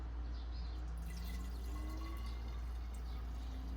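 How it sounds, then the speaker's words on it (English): Homemade almond milk pours into a container with a soft, continuous liquid trickle and faint gurgling, heard close under a steady low background hum. "So I'm pouring this into my container here."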